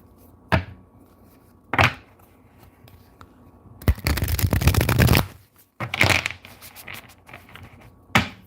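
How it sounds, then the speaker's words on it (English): Tarot cards being shuffled in several bursts: sharp riffling snaps spaced apart, then a longer rapid ruffle, close and crisp. "Two more shuffles."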